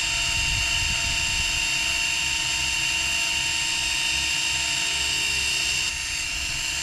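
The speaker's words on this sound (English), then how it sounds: "with this lever, you can go just turn it on, and boom, it does all the cranking for you." Electric fishing reel on a kayak cranking line at max speed, a continuous high-pitched motor whine with a buzzing drone underneath, loud and close, steady throughout with no talking.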